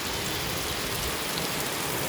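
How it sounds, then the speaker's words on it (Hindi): Heavy, steady downpour falls around a village house with a tiled roof and a garden of trees and vegetable plants, a dense, unbroken hiss with no voices. "आज बहुत तेज पानी बारिश हो गया बाटे"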